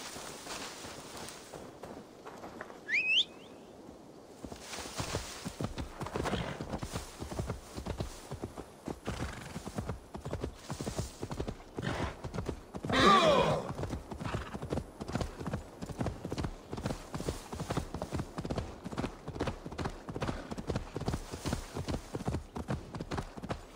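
A horse in Assassin's Creed Valhalla moving at a steady clip-clop trot, rhythmic hoofbeats running throughout, close and clear. A whinny sounds early and another loud neigh comes midway, with no talking over it.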